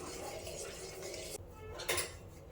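A spoon scraping and clinking softly against a pot as milk is stirred while it heats, faint and close, with a quiet hiss underneath and a slightly louder scrape near the end.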